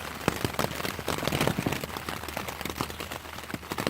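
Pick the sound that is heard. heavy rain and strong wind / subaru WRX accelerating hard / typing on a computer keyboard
heavy rain and strong wind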